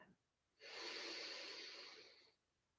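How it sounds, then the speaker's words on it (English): A deep inhalation during a yoga session, one long, steady breath drawn in over about two seconds, close and soft against a quiet room with no talking. "Big breath"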